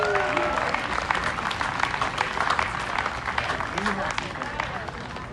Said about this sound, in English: How about a round of applause for the Branford Parks and Rec that put this all together?